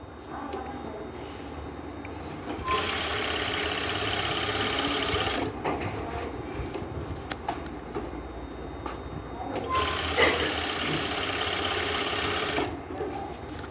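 Sewing machine stitching an Afghani salwar, running in two long steady whirring bursts with a pause between them, close and fairly loud over faint room hum.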